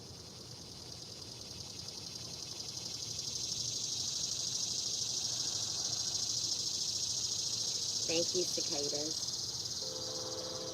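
Cicadas drone in a steady, high buzzing chorus outdoors, swelling slightly louder after the opening seconds, while a voice speaks briefly near the end.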